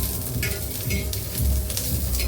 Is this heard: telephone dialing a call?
no